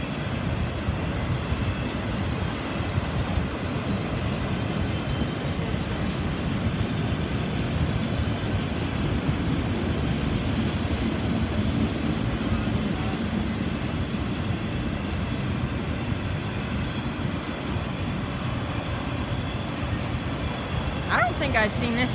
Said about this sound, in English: I think these are empty auto racks